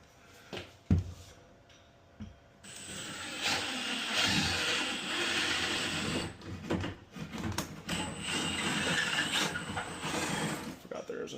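A 1/2 inch spade bit bores a hole during an access hub installation, the drill whirring loudly for two sustained bursts with a brief pause between, close by and alone.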